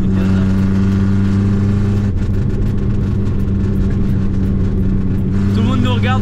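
A Renault 4L on the 4L Trophy rally road to Marrakech revs hard, its engine a loud, constant droning roar from inside the car, with a brief dip midway and voices over it near the end.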